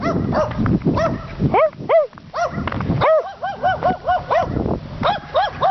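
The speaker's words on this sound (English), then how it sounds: "Yappy little shits, aren't they?" Several small dogs bark in quick, high-pitched yaps, overlapping and persistent, fairly close with a little background noise underneath.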